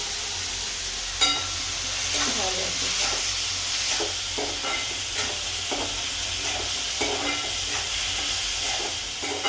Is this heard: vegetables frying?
yes